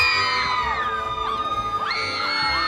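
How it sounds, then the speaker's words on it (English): A crowd at the TV Week Logies red carpet entrance keeps up loud, continuous screaming and whooping, with high-pitched shrieks rising and falling over a steady roar. "the girls and everyone's screaming"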